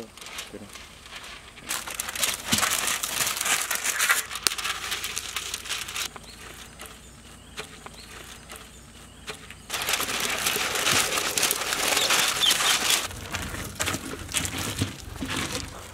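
Butter paper for lining a big Christmas plum cake tin is crinkled and crumpled in loud, close bursts of rustling separated by quieter gaps, with intermittent background noise between handlings.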